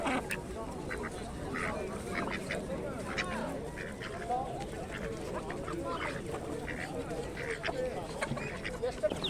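Indian runner ducks and other ducks and geese quack and honk repeatedly at a busy outdoor animal market in Lublin, with scattered calls over a constant murmur of crowd chatter.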